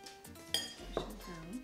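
A fork presses and crimps the edges of vegan empanada dough shut on a dish, making two or three light clinks of metal against the plate, close by and quiet.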